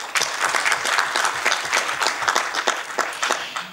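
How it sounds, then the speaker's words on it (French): Dense, steady applause from a conference audience in Casablanca, many hands clapping together close and loud throughout, with no voices over it. "Sous vos applaudissements, s'il vous plaît"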